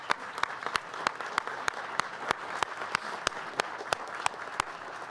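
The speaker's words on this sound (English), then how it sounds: "Can we please now give them all a huge round of applause?" Applause from the audience at a board briefing on a gay parenting assistance program, a soft bed of clapping punctuated by a series of sharp, louder individual claps at a fairly regular beat.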